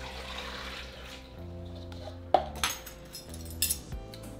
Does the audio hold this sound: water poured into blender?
yes